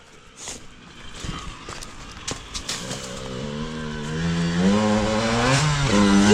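A 1997 Honda CR125R two-stroke dirt bike engine revs up on its first ride, climbing in pitch and loudness over a few seconds, close by, with faint voices in the background.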